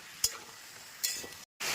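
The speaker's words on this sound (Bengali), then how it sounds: "এই সবজিগুলোকে আমি হাই ফ্লেমে সুন্দর করে এখন ভেজে নেবো" Mixed vegetables frying on high flame give a steady sizzle. Two sharp stirring scrapes cut through it, then a brief gap of silence before the hiss returns loud.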